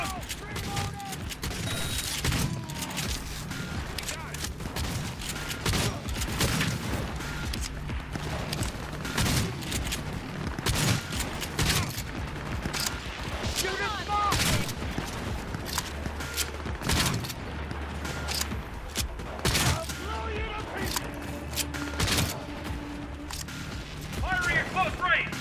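Cyberpunk 2077 gunfire rattles in rapid bursts of sharp shots mixed with mechanical clicks, footsteps and heavier booms, while combat voices shout over the action throughout.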